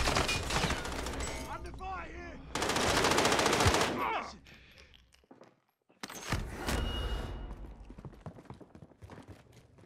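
Rapid automatic gunfire in a multiplayer shooter video game, loud bursts of machine-gun fire with a pause mid-clip, mixed with footsteps and other game sounds.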